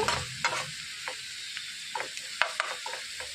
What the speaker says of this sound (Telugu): పచ్చిమిర్చి వేసేసుకొని ఈ ఆనియన్స్ని వేయించేసుకోవటమే